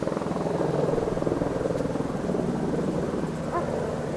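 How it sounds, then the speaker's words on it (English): A steady rhythmic thumping of helicopter rotors over a wildfire, with the helicopters dropping water, drones throughout, fairly loud and constant, with a faint background rumble and no voices. "Helicopters around it, giving water."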